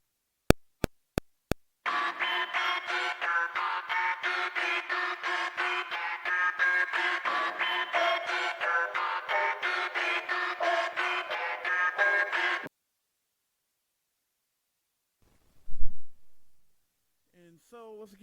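Polyphonic synth pads play on the second verse of a hip-hop beat, a steady pulsing chordal texture with a few clicks at the start, running about ten seconds before stopping abruptly into near silence.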